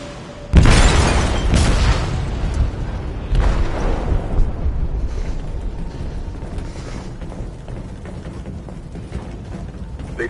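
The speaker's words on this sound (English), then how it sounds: "They detonated an explosive in the hold." Explosive detonated in a ship's hold in a video game, one sudden deep boom followed by a long rumbling, churning roar with a second swell of debris and creaking that slowly fades.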